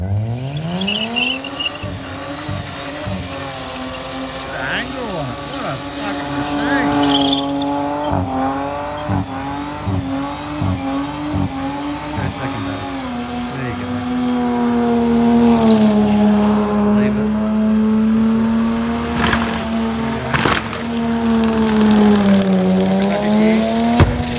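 A car doing a burnout at a skid competition, loud sustained engine revving with pitch rising and holding, tyre squeal layered over the roar throughout, no talking.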